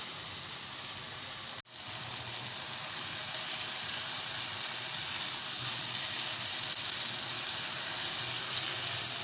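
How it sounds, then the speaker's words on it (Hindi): Ridge gourd with turmeric frying on high flame gives a steady, close, hissing sizzle that runs through the clip, broken only by a brief dip near the start. No one talks. "अब हम तुरई को 1 मिनट तक हाई फ्लेम पे इसी तरह से हम फ्राई करेंगे"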